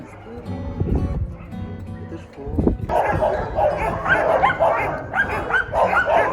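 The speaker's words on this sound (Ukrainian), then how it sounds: "У Вінницькому муніципальному притулку проживає понад 70 собак." Many dogs at a municipal animal shelter bark and yip repeatedly, close and loud, with overlapping barks and some whimpering. A voice talks over them.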